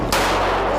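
A single sharp gunshot cracks loud and close near the start, followed by a reverberant, noisy tail that fills the rest of the moment.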